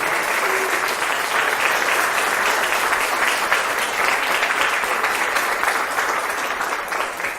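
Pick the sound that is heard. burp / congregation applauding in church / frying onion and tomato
congregation applauding in church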